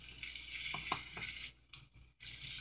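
Garlic sizzling in a pan for chicken Bicol Express, a soft hiss with several scraping strokes of a spatula, then brief pauses as the stirring stops and the frying continues quietly, close and low, no talking.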